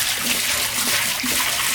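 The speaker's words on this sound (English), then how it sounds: "So you just drain the tank down." Water drains steadily from a waterlogged shallow well pump pressure tank, giving a continuous hissing rush with no breaks, fairly loud and close, with no talking.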